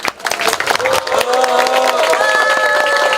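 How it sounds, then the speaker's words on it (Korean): Audience applause and cheering in a hall as a party floor leader is introduced at a signing ceremony for closing an off-track betting center in Yongsan; dense, sustained clapping with crowd noise, a voice and tonal sounds mixed in. "한 분 한 분 호명할 때마다 큰 박수 부탁드립니다"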